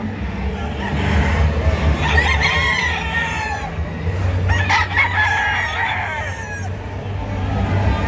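Several gamefowl roosters crow in overlapping calls across the clip at a gamefowl sale, with hens clucking and a steady low hum of farmyard noise underneath.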